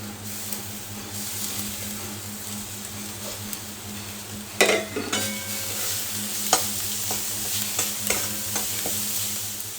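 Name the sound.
ginger and garlic frying in a pan for pepper chicken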